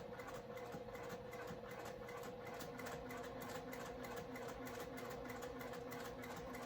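A sewing machine back stitching a Lola garment, a steady rapid mechanical whirr with a regular needle rhythm, close but low in level and uninterrupted.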